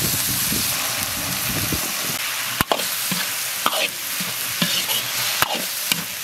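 Close, lively stir-frying of Jerusalem artichoke shreds with shredded pork and glass noodles in a wok, with a hissing sizzle, sharp scraping strokes of the spatula and occasional clanks against the pan, and no one speaking.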